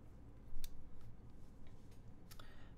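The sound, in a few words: mechanical keyboard typing, Gateron switches on half FR4 plate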